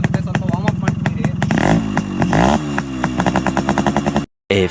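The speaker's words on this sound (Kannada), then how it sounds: "ಸ್ವಲ್ಪ ಇಂಜಿನ್ ವಾರ್ಮ್ ಅಪ್ ಆಗಬೇಕು" A Yamaha RX135 two-stroke motorcycle engine idles while warming up before tuning, with a loud, close, rapid popping and crackling beat that rises and falls unevenly before cutting out briefly near the end.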